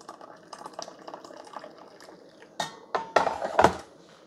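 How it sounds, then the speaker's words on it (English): Coffee from an OXO Brew 9-cup stainless steel carafe trickles into a mug at first, then a few louder splashing gushes follow as the pour strengthens. "So let's pour us out some coffee."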